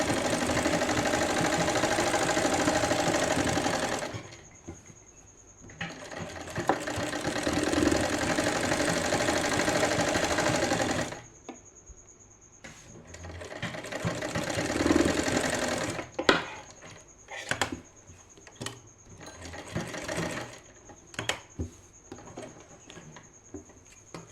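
A sewing machine stitches a child's dhoti salwar in long continuous runs with short pauses between them, and the final third breaks into brief start-stop bursts. No one speaks.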